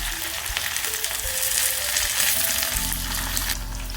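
Spices for drumstick sambar sizzling loudly in hot oil as they are tempered, a dense, constant crackling fry heard very close with no talking.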